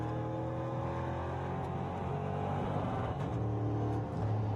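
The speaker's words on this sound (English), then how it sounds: "Now let's go and have a look at an on-board lap with Martin Dubek." NASCAR race car engine from an on-board lap at Most, Czechia, a steady, dense drone holding at a constant loud level throughout with no pauses.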